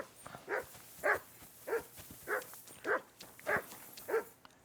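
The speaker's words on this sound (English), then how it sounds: "Doggy." A dog in Kingdom Come: Deliverance 2 barks repeatedly in a steady rhythm, about eight sharp yelps spaced evenly, close and clear over quiet ambience.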